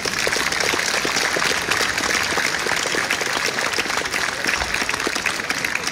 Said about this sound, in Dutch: Mag ik u nogmaals een applaus vragen voor de Pipers uit Ieper?